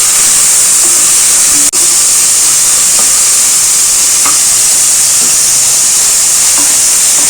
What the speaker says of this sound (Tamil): மிளகா போட்டுட்டோம். நல்லா வதங்கட்டும்.